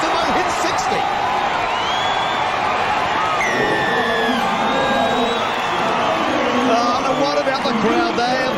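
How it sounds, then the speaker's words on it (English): Stadium crowd at a 2001 NRL rugby league match roaring and whooping after a Parramatta Eels try, a loud sustained wall of cheering with whistles and shouts rising through it, a commentator's voice faintly mixed in. "What about the crowd? They have gone absolutely off."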